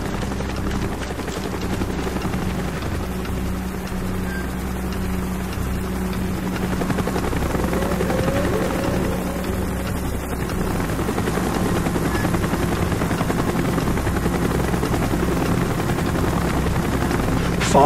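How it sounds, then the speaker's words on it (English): Helicopter in the video game Call of Duty Black Ops: a loud, steady rotor drone with a low chopping pulse, close and continuous throughout, with faint background effects and no clear talking. "Chopper's inbound! Move it!"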